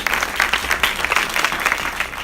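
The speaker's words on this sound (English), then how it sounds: "Give them a good round of applause." A short burst of dense audience clapping, steady and fairly close, with no speech over it.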